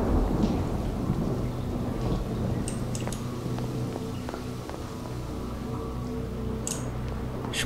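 Steady rain pours throughout a thunderstorm in the video game Obscuritas, a low rumbling wash with scattered drips and small knocks, continuous and fairly loud.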